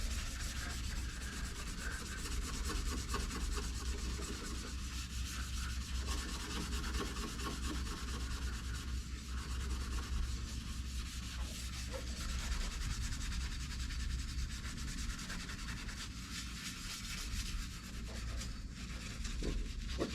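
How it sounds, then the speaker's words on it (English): An SOS pad scrubbing grime off a car's rubber window sill, a continuous close abrasive rubbing and scratching that holds steady throughout, with no voices. "I'm gonna even do this little bit of rubber windowsill here with the Sos Pad, and I'll get some of that grime off of that too"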